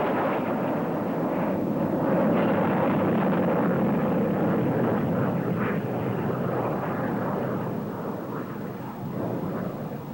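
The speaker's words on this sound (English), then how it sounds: "It can do twice the speed of sound and shows off its reheat with a burst of power." A loud, sustained roaring blast of a jet fighter's afterburner at the Farnborough air show, a continuous rough rumble lasting the whole stretch and fading slightly at the end.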